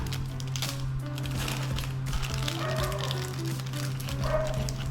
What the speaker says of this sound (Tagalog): Pasensya na kayo sa ingay ng aso sa aming kapitbahay guys.